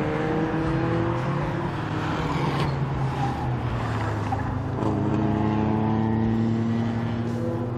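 Classic racing cars run on a circuit at the Classic Days event, engines droning steadily at a distance as they brake hard after a straight, a continuous layered roar with shifting pitch lines and no talk over it.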